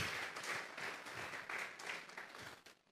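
A church congregation claps as an offering to God, a fairly faint, pulsing wash of applause with slight surges that tapers off at the end.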